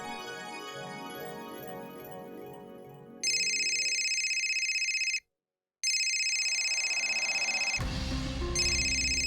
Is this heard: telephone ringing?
yes